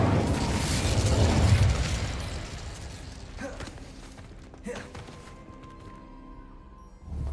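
The Incendio fire spell in Hogwarts Legacy bursts with a loud whooshing roar of flame at the start that fades out, followed by scattered pops, creaks and clanks as the scene quiets.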